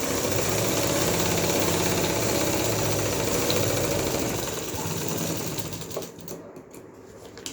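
Sewing machine stitching a rough seam along cloth, a steady continuous mechanical whirr that runs loud and close for about six seconds, then slows and stops near the end.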